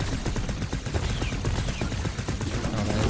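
Rapid, dense machine-gun fire in The Knight Witch, a loud continuous rattle of shots packed closely together with no pauses.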